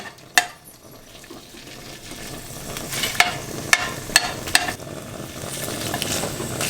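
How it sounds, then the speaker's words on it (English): Tofu being smashed down in a hot skillet, a soft sizzle with several sharp knocks and scrapes against the pan, close and moderately loud. "I use a half of a thing of tofu. And I just basically smash it all down."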